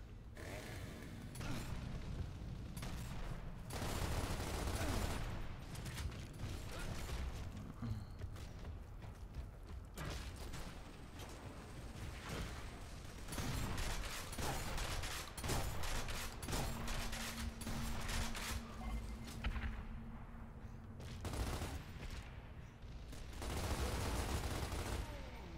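Blind-fire gunfire from a Gears of War: Ultimate Edition beta match, sustained bursts of automatic weapon fire and mechanical clatter running through most of the stretch, fairly quiet and dense, with no voices.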